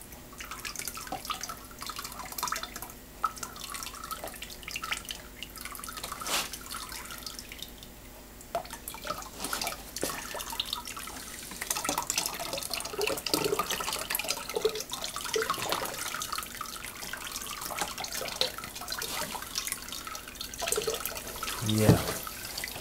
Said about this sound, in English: And now I'm very quickly going to pour this down over like this.